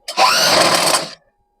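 A sewing machine stitches a frilled puffed blouse sleeve in one short, close whirring run of about a second, then stops abruptly into silence.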